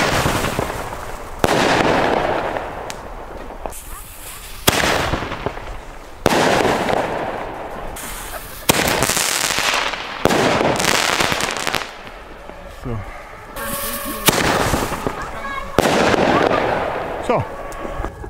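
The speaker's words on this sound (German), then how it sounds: "Für, ich glaube, 11 Euro bekommt ihr 20 Bombenrohre mit super tollen Effekt." Fireworks batteries and Bombenrohre mortar shells fire in loud repeated bursts of crackling and booming, each volley sharp at onset and fading into hissing crackle, filling the scene outdoors on New Year's Eve.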